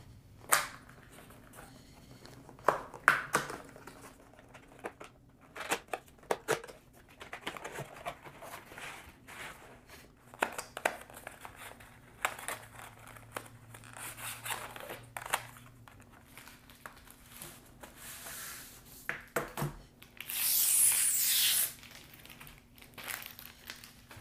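Packaging of a full-size Matias Wireless Aluminum Keyboard in space gray being handled during unboxing, with scattered crinkling, rustling and soft taps at close range, then a brief louder burst of crumpling near the end.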